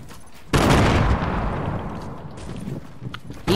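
A loud gunshot cracks out in a Fortnite match, followed by a long decaying rumble and a faint second shot near the end, with no voices over it.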